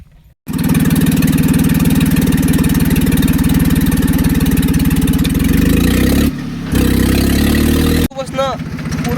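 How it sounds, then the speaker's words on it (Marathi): A tractor engine, finally started after a hard struggle, runs loud and steady at a chugging idle for several seconds, dips briefly, then cuts off near the end. "भरपूर प्रयत्न करून शेवटी ट्रॅक्टर सुरू केलाय."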